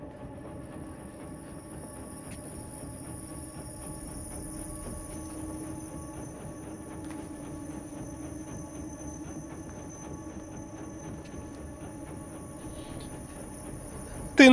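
A train rolls past in the dark side-scrolling game INSIDE, a steady mid-level rumble and clatter holding for the whole stretch with a sharp bump right at the end, no voices over it.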